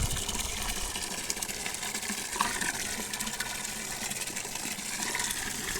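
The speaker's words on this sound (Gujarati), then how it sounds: "હમણાં ટાંકી ભરાઈ જશે" Steady gushing water pouring into a tank, a continuous rushing flow at constant level throughout, no voices.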